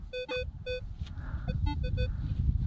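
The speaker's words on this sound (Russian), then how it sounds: "Что-то слишком сильно пищит." Minelab Equinox 800 metal detector sounding a series of short, clear tonal beeps at steady pitch, close and fairly loud over low background rumble, with a brief pause in the middle.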